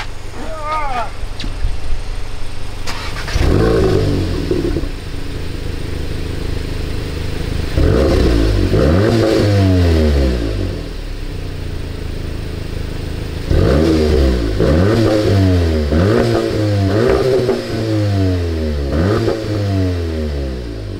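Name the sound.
Volkswagen Golf GTI engine revving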